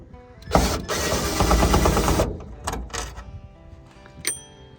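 Screws being backed out of interior trim on a 1987 Ford F250, a close, dense run of ratcheting mechanical clicks for about two seconds, then a few shorter bursts and a light tick, with no talk.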